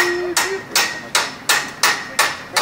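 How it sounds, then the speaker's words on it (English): Seven sharp hammer blows land in a steady rhythm while a stage canopy is fastened during construction of an outdoor stage, each strike loud and close with a short ringing decay. "Hammer time."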